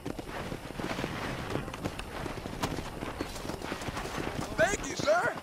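Horse hooves clip-clop steadily at a run in the Western open-world game Red Dead Redemption, with a short whinny near the end and game characters talking over the hoofbeats.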